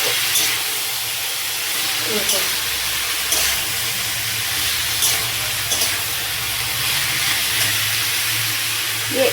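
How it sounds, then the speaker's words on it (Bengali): Mola fish frying with vegetables in a pan, seasoned with salt and turmeric, giving a loud, steady sizzling hiss with faint stirring scrapes, continuous and close throughout. "সবজি দিয়ে আমি এবার এটাকে কষবো, কারণ আমি আগে লবণ হলুদ সব দিয়ে দিয়েছি।"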